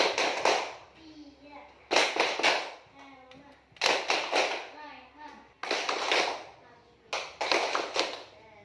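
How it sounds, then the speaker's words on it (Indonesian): Schoolchildren in a classroom perform a rhythmic roll-call clapping routine, short bursts of patterned claps alternating with chanted voices, repeated several times at close range. "Sekarang mari kita melakukan tepuk absen."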